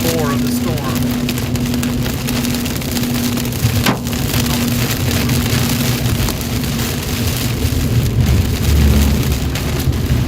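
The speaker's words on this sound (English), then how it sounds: "Kind of right in the middle of the core of the storm." Heavy rain pounding down in the core of a severe storm in North Texas with some hail, a loud dense steady roar on surfaces close by, with a voice talking underneath.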